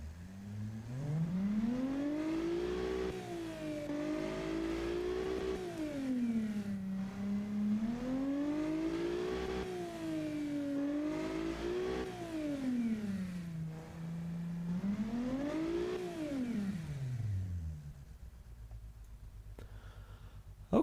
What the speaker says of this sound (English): what does our V6 sound like?